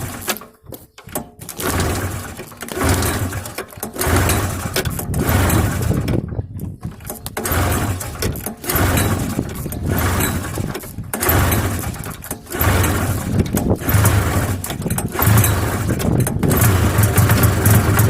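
Arctic Cat Jag 340cc snowmobile, previously seized with no spark. Choppy bursts give way to the two-stroke engine running roughly and loudly nearby, its note wavering and stumbling with brief dropouts throughout.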